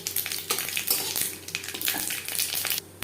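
Mustard seeds crackle and sizzle in hot oil after dried chillies are fried, tempering a sour masoor dal with elephant apple; a steady close frying hiss with scattered pops and faint utensil clinks.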